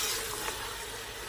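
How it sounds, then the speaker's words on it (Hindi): Onion and mutton for aloo gosht fry in a pan, making a steady, even sizzling hiss that stays constant throughout, with no voices. "इसे तकरीबन हम कोई 3 से 5 मिनट के लिए भून लेंगे"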